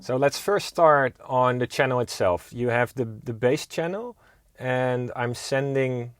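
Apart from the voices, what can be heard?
No everyday noises stand out.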